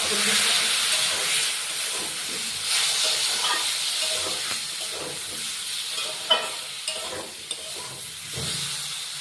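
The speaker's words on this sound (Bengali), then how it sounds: "অল্প করে গরম করে মশলাটা ভালো করে কষিয়ে নেব।" Ground spices sizzle and fry gently in a pan over a low gas flame, a steady close hiss with soft stirring scrapes and a few small pops scattered through.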